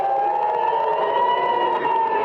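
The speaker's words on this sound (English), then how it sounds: "Air raid sirens screaming through Tel Aviv." A steady, wailing air raid siren in Tel Aviv holds one sustained tone for the whole stretch, loud and unbroken, with no voices.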